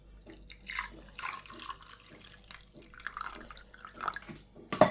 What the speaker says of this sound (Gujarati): ગ્લાસમાં 2 સ્ક્યુબ એડ કરી દેવાના, પાણી એડ કરવાનું